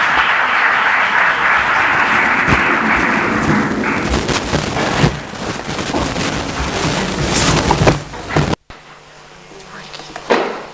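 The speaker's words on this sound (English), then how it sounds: "A round of applause for Vasco, please." A conference audience applauds at length after an introduction, a dense close wash of clapping that thins toward the end, then cuts abruptly to a quieter room.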